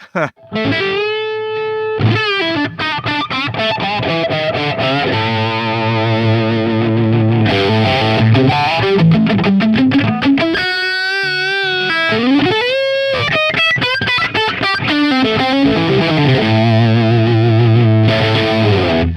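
Electric guitar driven through an ODD Box v1 hard-clipping overdrive pedal with every knob turned all the way up, thick saturated distorted chords and riffs ringing loud and continuous, with only brief gaps between phrases.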